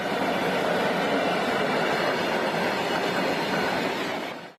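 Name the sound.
freight train moving on rails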